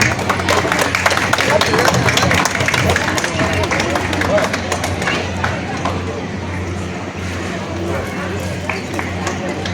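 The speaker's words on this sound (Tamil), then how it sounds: "தங்களுடைய கரகோஷங்களை எழுப்பலாம்." A crowd claps continuously at a World Mental Health Month event at a mental health centre, steady scattered applause with a low murmur of voices underneath.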